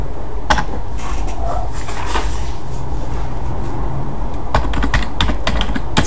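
A computer keyboard is being typed on while code is written, with bursts of close, quick key clicks and pauses between them, over a low background hum.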